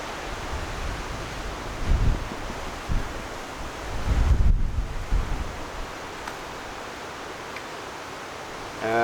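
Strong gusty wind during stormy weather at an outdoor Trangia stove cooking spot, a steady roar with noisy buffeting bursts against the microphone, loudest around the middle, heard alone.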